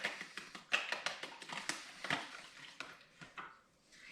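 A fork or whisk clicks rapidly against a bowl while an egg is beaten with milk, cinnamon and sugar for French toast, a quick run of light taps and scrapes, fairly close and fading toward the end.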